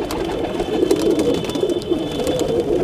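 Pigeons in a loft, released into a sunlit net enclosure, coo repeatedly and close by in soft, throaty, overlapping calls.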